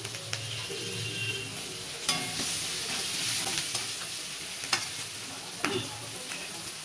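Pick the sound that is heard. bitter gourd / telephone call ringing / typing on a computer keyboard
bitter gourd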